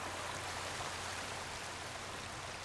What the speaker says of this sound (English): Yep, there's a waterfall here.